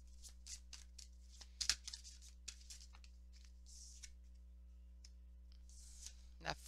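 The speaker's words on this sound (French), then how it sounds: "On va aller chercher 3 autres petites cartes" Tarot cards being shuffled and drawn by hand, a series of soft papery flicks and slides over a steady low electrical hum, with a sharper snap near the middle and end.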